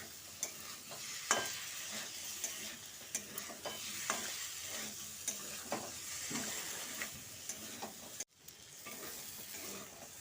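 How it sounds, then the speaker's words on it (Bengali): Fried potato and pumpkin are stirred into a spice paste in hot oil, with repeated spoon scrapes at an irregular rhythm over a soft, continuous sizzle and a brief dropout near the end. "এবার ভেজে রাখা আলু ও কুমড়োটা দিয়ে দিচ্ছি পুরো আলুটা দিয়ে মশলার সঙ্গে খুব ভালো করে মিশিয়ে নিচ্ছি"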